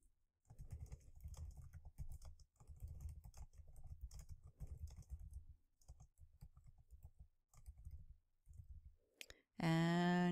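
Rapid keystrokes clatter on a computer keyboard in quick, uneven bursts with short pauses, fairly close and quiet, while a post is written on LinkedIn; a louder burst of other sound cuts in at the very end.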